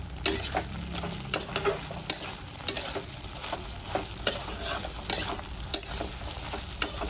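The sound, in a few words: sautéing chopped tomato with spices in a pan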